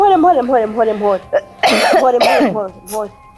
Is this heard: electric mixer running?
no